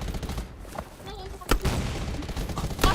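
Gunfire in the Undawn video game during a training match, sharp bursts of shots over game ambience, with players talking excitedly over the action.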